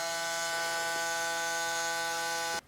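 A Braun Series 9 electric razor's cleaning station runs with a steady, even motor buzz for a couple of seconds, then cuts off abruptly.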